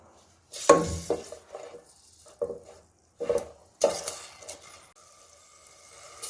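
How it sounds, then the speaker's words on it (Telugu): Green chillies frying in oil in a pan, with bursts of sizzling and spatter broken by quiet gaps, clinks and stirring scrapes, and a softer, steady fry toward the end. "ఇవి ఒక 6 మిరపకాయలు ఇలాగే ఫ్రై చేసుకుందాం"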